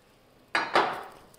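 Chopped mint and coriander being mixed into prawn biryani, a couple of short scraping clinks of a spoon against a pot, close and moderately loud, with nothing else around them.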